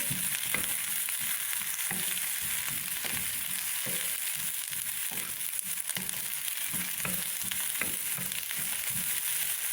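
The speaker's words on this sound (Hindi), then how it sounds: "और इसको थोड़ा सा भून लेंगे।" Onions sautéing in a pan for an egg and potato gravy, giving a constant dense sizzle with rhythmic stirring scrapes throughout, close and unbroken by talk.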